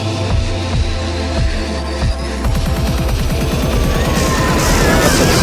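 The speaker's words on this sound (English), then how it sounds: "Oh, that firework was timed beautifully." Fireworks burst during a night ride on an indoor inverted coaster in Planet Coaster, a rapid crackling volley of pops and thuds layered over loud, steady music and ride noise.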